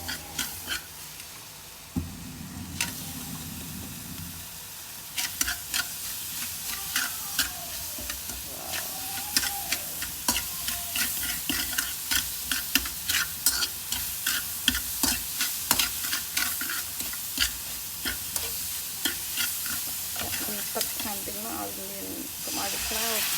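Curry paste and meat are stir-fried in a pan for a Cambodian curry soup, with a steady sizzle under repeated scraping stir strokes throughout and a voice talking at times.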